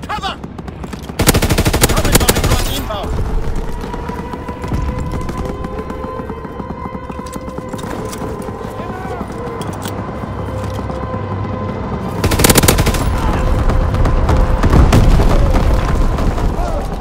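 Rapid machine gun fire from an enemy aircraft gunner in Call of Duty WWII, loud sustained bursts with booming impacts, heaviest at the start and again near the end, alongside a droning engine tone.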